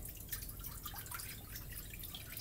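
Soft, close trickle of water splashing and dripping into a cooking pot on a stove, quiet and continuous for a couple of seconds.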